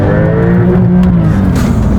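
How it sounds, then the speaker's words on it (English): A 2021 Porsche 911 Turbo S launches hard under launch control, a loud, steady engine roar and rising drive noise filling the whole two seconds, close and continuous. "launch control activated, and oh!"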